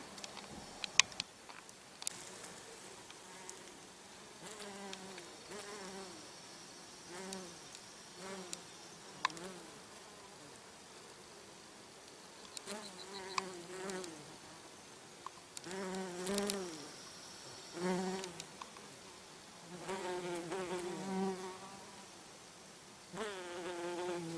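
Bees buzz around flowers outdoors, their wings droning in repeated close passes that rise and fade, some louder near the end, with no talk over them.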